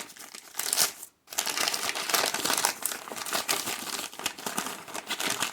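Crinkly plastic packaging around a book being unwrapped by hand, a dense run of crackling and crumpling with one brief pause, close up with no talking.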